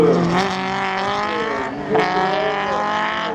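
High-performance race cars at a slalom event, engines loud and close, with harmonic revving that rises and falls twice as the cars accelerate through the course, no talk.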